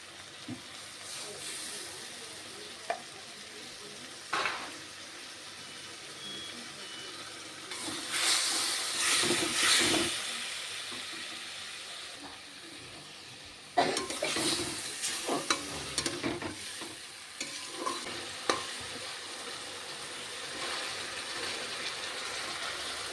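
Spice paste for a fish curry with potato and pointed gourd fries in oil while being stirred, with a continuous sizzle, bursts of louder hissing and scraping spatula strokes, close by.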